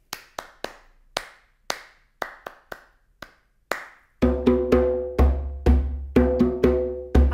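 Hand claps in a toddler music session, first sparse single claps spaced irregularly, then a denser steady run of claps over a sustained musical tone, close and clear with no talking.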